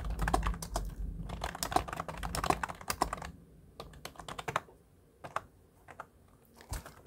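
Rapid typing on a computer keyboard while entering spreadsheet data in Excel 2021, a close, steady patter of key clicks in bursts separated by short pauses.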